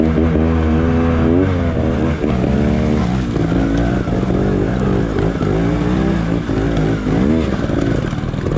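Trial motorcycle ridden along the rocky Pedra Grande trail in Igarapé, its engine close and loud, droning steadily with frequent small throttle blips and revs over rough ground.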